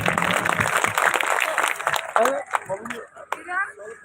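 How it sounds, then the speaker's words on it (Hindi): An audience at an evening devotional bhajan gathering and statue-unveiling ceremony claps to welcome a speaker, a brief burst of applause mixed with voices and crowd noise that soon gives way to someone talking. "जोरदार तालियां बजा करके स्वागत करें।"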